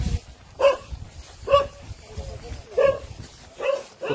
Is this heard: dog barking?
yes